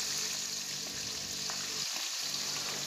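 Pabda fish rubbed with salt and turmeric frying in a pan, a steady close crackling sizzle that runs throughout with a brief dip in the low rumble partway through; no talking.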